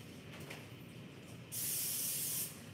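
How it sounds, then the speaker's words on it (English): Olive oil cooking spray hisses onto an air fryer rack in one steady burst of about a second, close and fairly loud, with a quiet room before it. "We're gonna spray it with some,"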